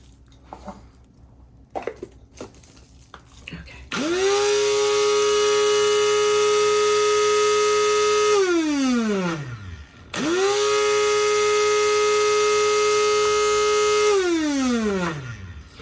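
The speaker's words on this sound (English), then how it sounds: "You also want to grind these for at least 2 to 3 minutes" A grinder grinding lipgloss pigment powders, lake dye and red oxide, runs as a loud steady motor whine in two long bursts, each spinning down at the end, following a few faint clicks.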